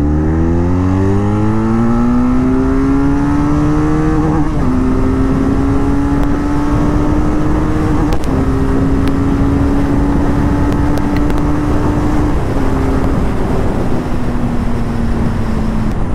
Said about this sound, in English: If you want to extract this 500cc's power, then you have to go to the top end.